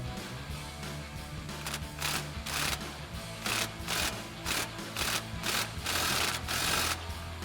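A socket wrench turned lightly by hand on a bolt, starting a flag nut during a Jeep Wrangler JK lift kit install, gives quiet bursts of ratcheting clicks in short, uneven runs.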